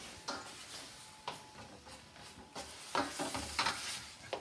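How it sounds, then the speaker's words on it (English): Ground beef sizzles quietly in a pan, with a soft continuous crackle and occasional scraping stir and utensil taps. "I'm going to show you guys the next while my meat is cooking over here"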